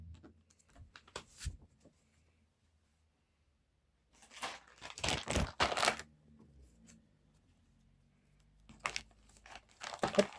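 A Ferrari 330 model kit package being unwrapped makes close, quiet bursts of crinkling and rustling plastic packaging, separated by stretches of near silence.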